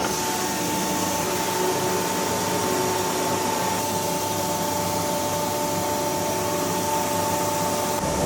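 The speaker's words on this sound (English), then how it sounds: "Then I'll fire up the vacuum pump." Vacuum pump on a boat frame building table, running as a loud steady mechanical whir with a constant whine and hum that holds even and unbroken the whole time.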